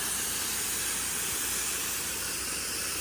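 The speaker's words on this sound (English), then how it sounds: "I'm just downstreaming some house wash on here for good measure." A pressure washer downstreams house wash onto a house exterior, giving a steady, fairly quiet broadband hiss of spray that runs unbroken throughout.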